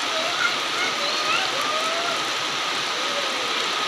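Steady rain hissing down continuously, a dense even wash of falling drops with no pauses and faint tonal sounds in the background.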